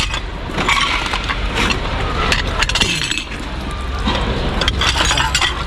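Glass kitchenware clinks and breaks while someone rummages through a dumpster, with sharp cracks and chinks scattered over a busy clatter of items, near and fairly loud, and traffic faintly in the background.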